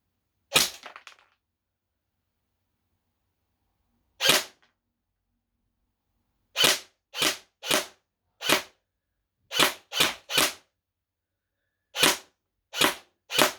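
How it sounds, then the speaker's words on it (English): A Cybergun FN Scar-L airsoft rifle fires a string of sharp, snappy shots with no one talking. A single shot comes first, then a pause, then quick irregular pairs and bursts of cracks, each crisp and dry. "I'll finish off with a burst of automatic fire"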